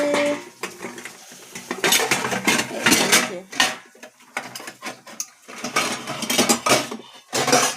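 A metal khunti spatula stirring and scraping in a pan, with irregular bursts of clattering metal-on-metal strokes, close and loud, separated by short pauses.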